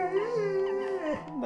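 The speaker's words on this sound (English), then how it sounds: "That's the dog." A dog howls and whimpers in a long, wavering, pitch-sliding cry that stays close and fairly loud, rising and falling before trailing off near the end, with no talk over it.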